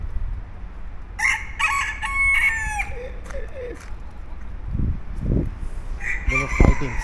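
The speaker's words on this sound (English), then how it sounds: "These hens were fighting." Hens fighting, squawking and cackling in agitated bursts close by, with loud flapping scuffles and a rooster-like crow near the end.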